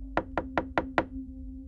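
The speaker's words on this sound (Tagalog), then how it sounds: "kumatok na ako sa bahay nila" Five sharp knocks on a house door, evenly spaced and loud, followed by a brief ringing hum with no voices.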